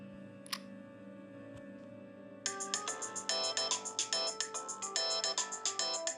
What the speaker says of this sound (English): we've got to talk about your ringtone. It's a bit groovy, isn't it?